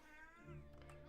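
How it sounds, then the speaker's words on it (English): A pet cat yowling on his own, a short drawn-out meow-like call close to a microphone, faint beneath steady background hum. "My cat is yelling to himself."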